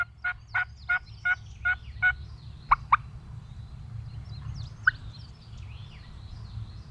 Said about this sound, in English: Gobbler in the lane right there.